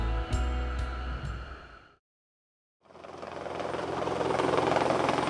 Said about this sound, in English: They take a helicopter to work.